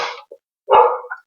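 A dog nearby gives a quick pair of short barks, a brief pause, then one louder, fuller bark with a small yip tacked on at the end.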